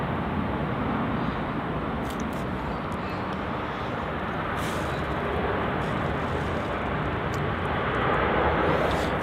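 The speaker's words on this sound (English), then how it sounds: "This is Virgin Australia flight VA830 coming in from Sydney." Virgin Australia Boeing 737-800 arriving at Melbourne Airport from Sydney, a broad steady jet roar that stays loud and near across the whole stretch, swelling slightly toward the end.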